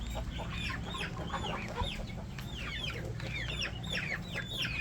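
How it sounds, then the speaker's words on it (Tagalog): Chickens on a farm cluck and chatter continuously, with many overlapping calls over a steady low rumble of background noise and no talking. "My beautiful chicken."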